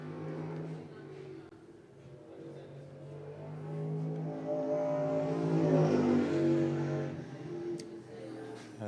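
A race car accelerates down the backstretch at Lee USA Speedway. Its engine drone rises and swells to a peak, then eases off, heard at a distance beneath a commentator's voice.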